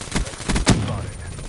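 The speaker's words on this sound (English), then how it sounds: "Shots fired." Quick volley of gunshots in a fast-paced shooter video game, several sharp cracks within about a second, close and fairly loud, trailing into game ambience.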